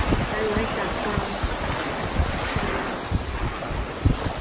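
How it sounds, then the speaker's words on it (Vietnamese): Ocean waves wash onto a Florida beach shore in a steady, broad roar with gusts of wind noise across the microphone, loud and continuous with no talking. "I like the sound on the water, on the wave coming to the shore."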